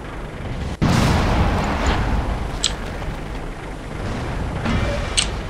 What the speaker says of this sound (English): look at all the gunshots just going off